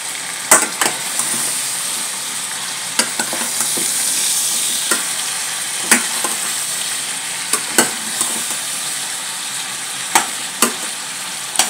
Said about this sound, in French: on va laisser griller. D'abord laisser griller